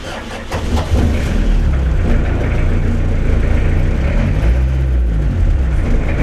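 A 1996 English-model armoured army support vehicle, an old converted machine, runs with a loud, rough low engine rumble that holds steady throughout, dense and close with no voices.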